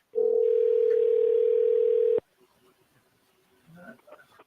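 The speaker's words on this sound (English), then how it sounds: "can y'all hear that ringing?" A telephone rings on a call line as one steady electronic tone lasting about two seconds, then cuts off. Faint movement and a brief voice follow.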